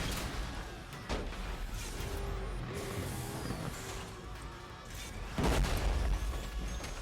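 Burnout Paradise on Xbox One: crash and impact sounds from the racing game, with bursts like small explosions, a loud thump near the start and a heavier boom around the fifth second over constant engine and road noise.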